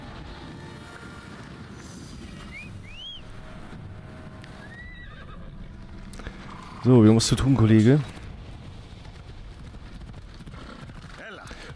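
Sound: horse hooves and neighing in Assassin's Creed Odyssey video game

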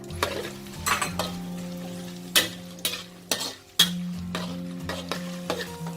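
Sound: frying pounded garlic in hot oil

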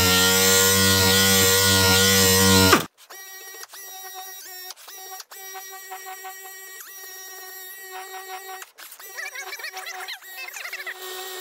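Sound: SurfPrep sander with non-woven pad sanding cabinet

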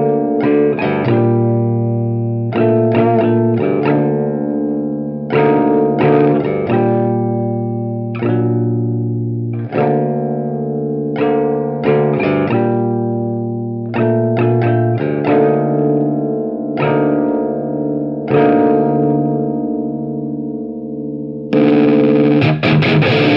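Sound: guitar through KarenX effects pedal

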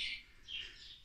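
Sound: nesting birds calling in a campsite barn

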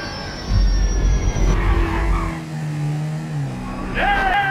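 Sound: airplane engine in the video game GTA 5

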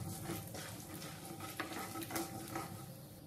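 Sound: mustard seeds, cumin, urad and chana dal frying in oil

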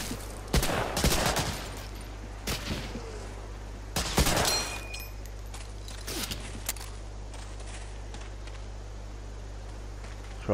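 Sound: gunshots in video game Medal of Honor Allied Assault

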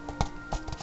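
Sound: footsteps in the video game Kingdom Hearts

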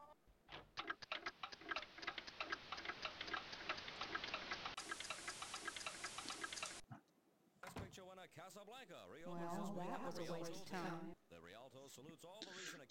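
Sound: clock ticking quickly in the video game Amber: Journeys Beyond

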